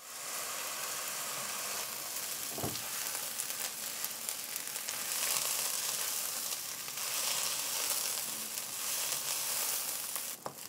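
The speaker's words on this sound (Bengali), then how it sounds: "এখন চালটা এরকম 5 মিনিটের মতো ভাজবো।" Rice frying in oil with bay leaves, cloves, cinnamon and ginger paste for Bengali pulao, giving a loud, steady, close-up sizzle that swells slightly midway and carries a brief knock near the start.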